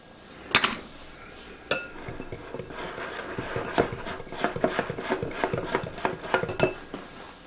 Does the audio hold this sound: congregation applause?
no